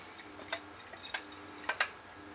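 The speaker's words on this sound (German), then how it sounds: "Ich schütte das mal da um." Etching solution used for circuit boards is poured off, leaving a handful of faint, sparse drips that fall at irregular moments in a quiet room.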